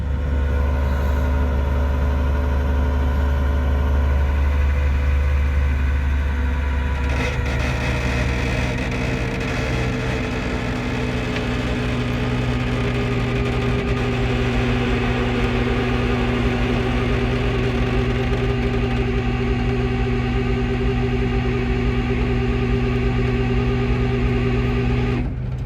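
A rollback tow truck's engine idles steadily with a low, constant rumble and a faint mechanical whine, continuous and close throughout, without any voices.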